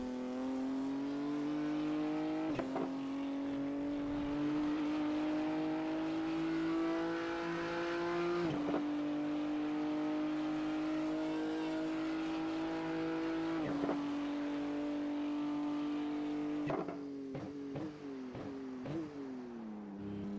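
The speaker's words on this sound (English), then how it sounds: "What a perfect sounding BMW." A BMW GT3 race car in a racing video game, its engine droning steadily at high revs with a few sharp gear-change dips and a burst of quick shifts near the end, loud and continuous with no talk.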